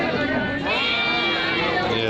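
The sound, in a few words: goat bleating at a goat market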